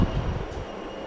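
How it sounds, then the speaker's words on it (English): A Southern train pulls into a station on the London Victoria line, a steady low rumble of wheels and carriages running throughout the short stretch with no voices over it. "Here's our train."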